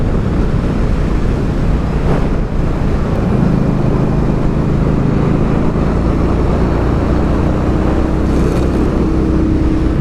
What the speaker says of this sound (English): this bike may not have the Octane motor in it, but it's still fast. It still gets up and goes